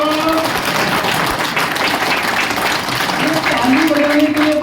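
A seminar audience claps together in sustained, dense applause that fills the room loudly and evenly from start to finish.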